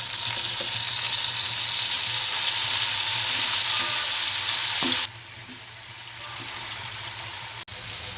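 Tomatoes tipped into a pan of ginger frying in hot oil give a loud, steady sizzle that drops sharply partway through, then settles to a quieter, continuous crackle with a brief dip near the end; no voices.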